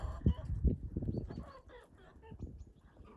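Laying hens clucking on a small home farm, a steady run of close, soft clucks and throaty murmurs from several birds, fairly quiet, with no talking over them.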